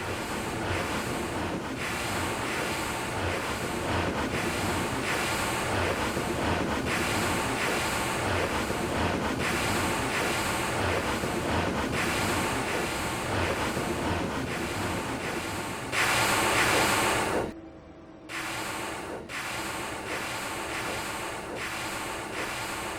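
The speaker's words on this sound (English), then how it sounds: "The sound of the pod breathing as it passed by the ship was reminiscent of the sound of a steam engine." A superpod of about 30 minke whales breathing as they swim past a ship in the Ross Sea off Victoria Land, Antarctica: steady, chuffing blows like a steam engine over continuous wind and surf, briefly cutting out near the end.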